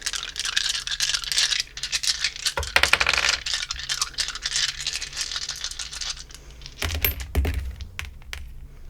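A deck of tarot cards being shuffled up close, a busy stream of papery riffles, flicks and rattles with a few sharper clattering bursts, no voices.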